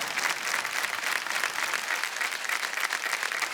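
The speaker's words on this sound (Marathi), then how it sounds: "टाळ्या वाजत राहायला पाहिजेत." Studio audience applause on the set of the Marathi KBC quiz show, a dense, continuous wash of clapping that holds steady at full strength throughout, with no voices above it.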